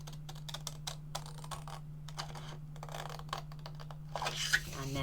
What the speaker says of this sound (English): Then I'm going to cut up this side as well.